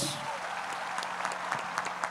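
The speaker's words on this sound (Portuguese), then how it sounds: "Aplauda Jesus." A congregation at a Catholic evening service applauds steadily, a soft, even wash of clapping heard from a distance at low level.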